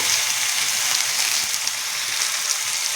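Tomatoes with chili powder frying in a pan give off a loud, steady sizzle with no break and no voices.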